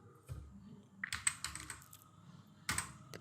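Computer keyboard being typed on while entering values into a spreadsheet, quiet close clicks in a short irregular flurry with a brief pause before a final few keystrokes.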